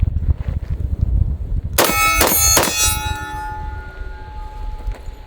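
Rifle magazine from a bullpup rifle dropped onto the ground, landing with a couple of loud ringing metallic clangs that fade into a lingering tone.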